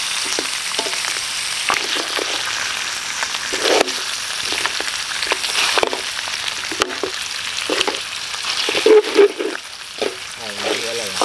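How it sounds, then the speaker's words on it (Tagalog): Beef sautéing Filipino style in a hot pan, a loud steady sizzle with scraping stirs and clanks of the utensil against the pan, close up throughout. "Gigisa-gisain lang natin yan saglit."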